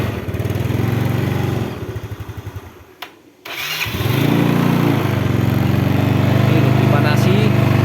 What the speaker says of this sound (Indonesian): Ini dipanasi, CVT halus